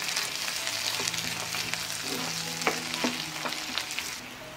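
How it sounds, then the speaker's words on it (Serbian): Onion and chopped celery sizzle steadily in a pan while being stirred, with scattered scrapes and clinks of the spoon over a constant frying hiss, close and fairly loud, no talking. "Promešat ću i proprašiti još koji minut."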